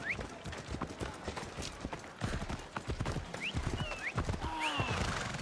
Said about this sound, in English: That's a nice horse, Socrates.